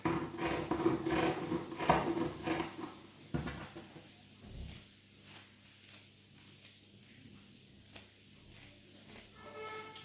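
Tuberose flower stems being cut for a Ganesha Chaturthi decoration: a few crisp scissor snips and rustles come first, then quieter soft rubbing and handling noises at close range.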